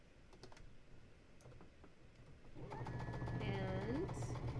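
A sewing machine stitches quilt block pieces for an Open Star block. It starts after a few seconds of quiet handling and runs as a steady, close mechanical whir with a brief voice over it.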